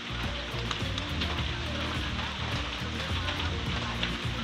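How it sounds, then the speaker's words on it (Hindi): Steady, dense rain hisses and patters without a break, close and fairly loud, near Doi Suthep, Chiang Mai, Thailand. "बारिश हो ही रही है अभी तक"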